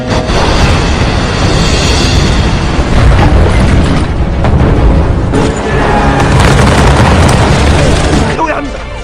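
Loud, heavy booms of Joseon cannon fire in a naval battle roll one into another in a dense battle din, with a voice speaking over the blasts.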